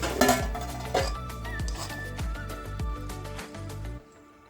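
Chicken chilli being served, with close clinks and scrapes of a serving spoon against dishes and cutlery, a few sharper knocks over a faint background hum that drops away at the end.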